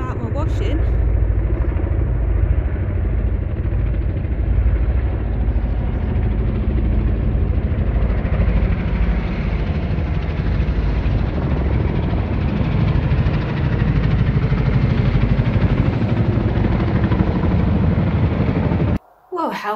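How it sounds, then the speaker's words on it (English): Two large army helicopters fly low overhead, a loud, continuous rotor and engine roar that fills the whole stretch, holding steady before cutting off abruptly at the end. "two of these huge army helicopters came over really low"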